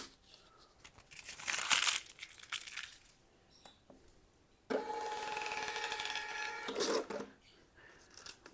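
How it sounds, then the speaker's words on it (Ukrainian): Two bursts of an Xprinter XP-Q801K thermal receipt printer whirring and buzzing steadily, each lasting a couple of seconds, with a faint rustle of paper between them. "принтер друкує чеки з будь-якого пристрою"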